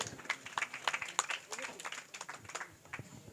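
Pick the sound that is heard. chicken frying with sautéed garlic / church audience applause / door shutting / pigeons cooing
church audience applause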